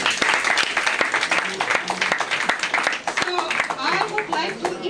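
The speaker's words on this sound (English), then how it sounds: "Please give them a big round of applause." A big round of applause at an NYPD promotion celebration, a crowd clapping loudly and steadily throughout while a voice speaks over the clapping.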